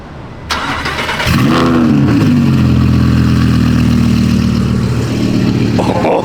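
An Audi R8 with a boosted V10 engine and dual-clutch transmission starts up with a sharp crank, then settles into a loud, steady idle.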